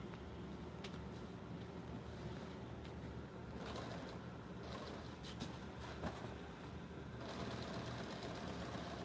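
A sewing machine stitches through bulky, heavy material, its steady mechanical whir running continuously at low level with no talking.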